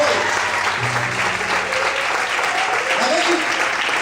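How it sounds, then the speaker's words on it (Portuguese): A church congregation applauds the Lord at an evening service, a loud, continuous wall of clapping from many hands that fills the whole stretch, with faint voices mixed in underneath. "glorifique e aplauda ao Senhor nessa noite"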